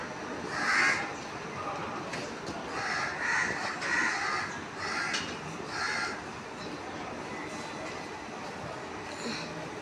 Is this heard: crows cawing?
yes